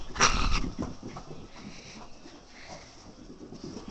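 An excited, hyperactive dog whimpers and yelps in short bursts, loudest at the start, then snuffles and whines more quietly with scuffling movement.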